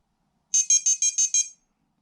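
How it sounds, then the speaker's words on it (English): A Sonik SKS carp-fishing bite alarm powering on after its top button is held: six quick, bright electronic beeps in an even rhythm, close and clear, with silence around them. "to turn these alarms on, what you do is you simply hold down the top button, which has a V on it, for a couple of seconds and you'll hear it"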